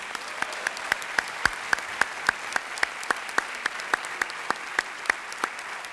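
Sparse, evenly spaced hand claps ring out at an awards assembly honoring junior academic achievers, roughly three sharp claps per second, moderately near and steady, with no talking over them.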